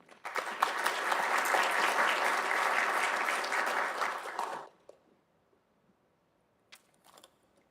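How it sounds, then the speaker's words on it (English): A conference audience claps in a sustained burst of applause for about four and a half seconds, then stops suddenly, leaving near silence with a few faint rustles. "A round of applause"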